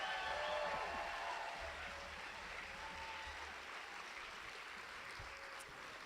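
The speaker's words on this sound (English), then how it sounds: "How about a huge round of applause for our band" Applause from a school follies audience for the band, a broad steady wash of clapping heard from a distance at a moderate level, with no voices on top.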